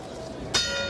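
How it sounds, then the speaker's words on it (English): A boxing ring bell clangs once to end a round in a 1987 Holyfield vs. Qawi heavyweight fight, striking sharply midway and ringing on over crowd noise. "We head for the bell."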